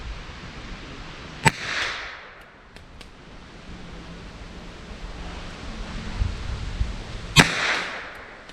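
Two sharp gunshots from .32 ACP rounds fired in a .327/.32 H&R Magnum revolver, spaced about six seconds apart, each a loud crack with a brief outdoor echo over steady wind and background hiss.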